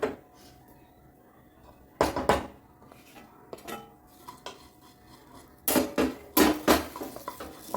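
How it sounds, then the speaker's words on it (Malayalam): Crispy fried poha stirred in a pan for an evening snack, with bursts of utensil scraping and clatter against the pan at irregular intervals between quieter stretches. "നന്നായിട്ട് ഇളക്കി കൊടുക്കാം"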